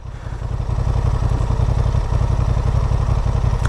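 A 2023 Honda Hornet CB750 motorcycle runs at a steady idle, its exhaust giving off a loud, close, rapid, even thrumming pulse with no voices over it.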